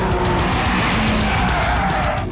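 A 5.4 litre V8 and a 6.5 litre V12 race side by side into the first corner, a loud, dense engine roar with tyre noise filling the whole stretch.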